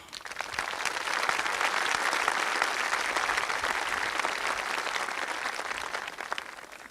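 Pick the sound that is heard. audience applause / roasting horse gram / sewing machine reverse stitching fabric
audience applause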